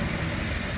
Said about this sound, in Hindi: अब ये इंजन स्टार्ट है